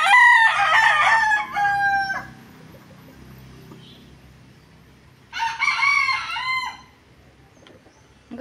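Roosters and chickens in a yard: a loud, close cock-a-doodle-doo crow, then a quieter stretch with faint clucking, then a second strong crow.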